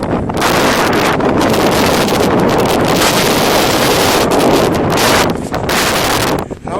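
Strong wind gusts roar steadily across a microphone on a mountaintop in the Wichita Mountains, loud and continuous with brief dips near the start and end, and no speech.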